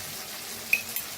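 Onion and tomato sizzle in a pan with turmeric, coriander powder and red chilli powder for a ridge gourd curry, a steady soft frying hiss with one or two brief stirring scrapes near the end.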